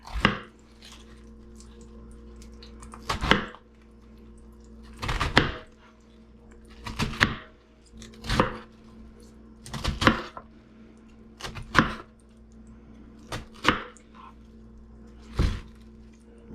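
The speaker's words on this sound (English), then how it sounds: "Now we're going to roughly chop it." A knife roughly chops cabbage on a board, about a dozen sharp, distinct thuds spaced unevenly every second or two, close and clear over a quiet background.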